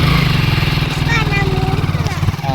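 A motorcycle engine running and being revved lightly, a close, steady throbbing putter with small rises in pitch, while someone talks over it.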